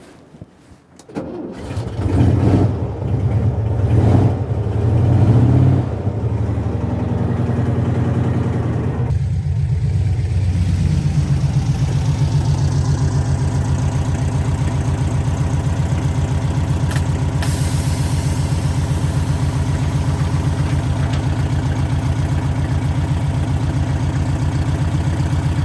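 A BMW 700 small car's engine cranks through a few rough, uneven attempts before catching, then settles into a steady, close idle that runs on for many seconds with no talk.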